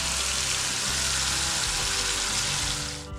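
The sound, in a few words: frying ginger garlic paste with spices in a pan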